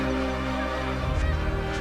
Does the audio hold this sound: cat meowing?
no